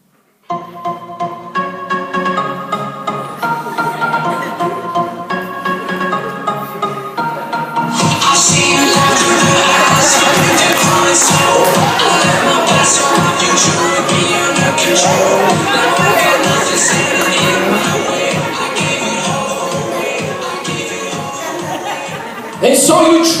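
Steady crowd chatter and babble fills a lounge, many overlapping voices with laughter, loud and continuous after music-like tones at the start.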